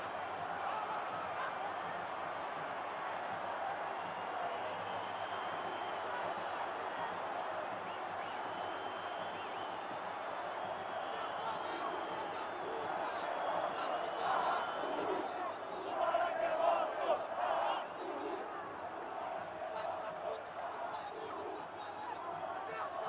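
Corinthians fans fill the Maracanã Stadium during a Copa do Brasil match with Fluminense, a distant, steady roar of chanting and crowd noise that swells briefly near the end, under a commentator's voice.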